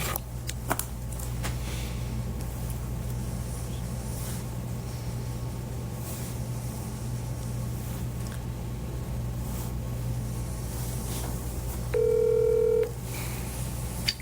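Touch-tone phone dialing a call, a short clear burst of DTMF tones near the end over a steady low hum, with a faint crackle at the start.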